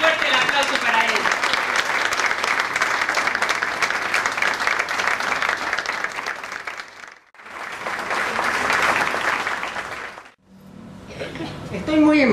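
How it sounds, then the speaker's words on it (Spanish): An audience at a tribute ceremony bursts into loud, sustained applause. It fades briefly twice and surges back, with voices faintly audible in the gaps. "Azucena Carmona, fuerte el aplauso para ella"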